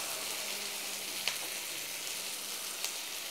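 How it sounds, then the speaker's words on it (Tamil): Ingredients for vallarai thuvaiyal fry steadily in a pan with a faint, even sizzle and crackle and a couple of tiny pops, with no voices. "நல்லா வறுபடட்டும்."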